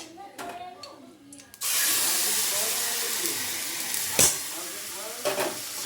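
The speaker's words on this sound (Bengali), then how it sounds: "এবার ঘিয়ের মধ্যে আমি গাজরের পেস্টটাকে আমি দিয়ে দেব।" Carrot paste hitting hot ghee bursts into a loud, steady hiss and sizzle after a quieter start, with a sharp clatter partway through and faint stirring, close by.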